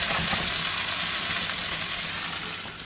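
Meat browning in a pan for stroganoff, a loud, continuous dense sizzle and crackle of frying close by, steady throughout and easing slightly at the end, with no talk.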